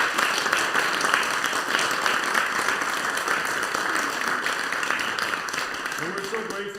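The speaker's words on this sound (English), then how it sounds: "A warm round of applause for Myungseo." An audience at a university music school concert applauds a pianist with sustained, dense clapping that holds steady and then begins to thin out near the end.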